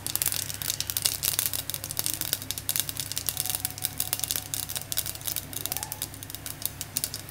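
Mustard seeds and urad dal splutter in hot oil in a copper-bottomed pan, a dense run of sharp crackling pops and ticks, close and fairly loud, with no voices.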